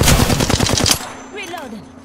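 Rapid automatic gunfire in Apex Legends, a loud close burst of evenly spaced shots lasting about a second, then cut off and followed by quieter game chirps.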